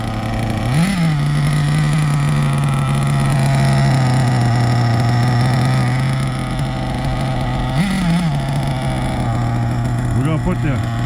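A Hobao Hyper SST nitro RC car engine runs continuously during break-in, a loud steady buzzing drone with a couple of brief revs, and people talk faintly in the background.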